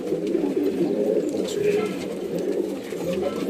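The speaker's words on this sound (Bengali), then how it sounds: "ম্যাট্রাস পায়রা দাদা হ্যাঁ, ম্যাট্রাস পায়রা" Several tournament racing pigeons, male and female, cooing close by in low, overlapping murmurs, a continuous soft burbling chorus with faint background noise.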